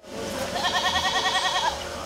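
A single goat on a farm beside a castle lets out a long, wavering bleat, close and loud, trailing off after about a second and a half.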